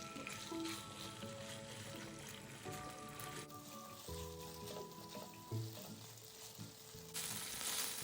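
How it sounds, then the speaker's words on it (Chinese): Shredded chicken stir-fried in a wok with a little cooking oil for a sweet potato and bamboo shoot dumpling filling, a steady dense sizzle with scraping stirs running throughout, close and fairly loud, no talking. "将备好的鸡肉丝倒入，拌炒至鸡肉颜色转白。"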